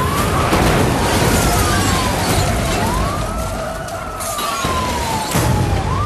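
Police sirens wail and sweep up and down in the Need for Speed Hot Pursuit racing game, steady and loud over a dense roar of engine and road noise, with no talk.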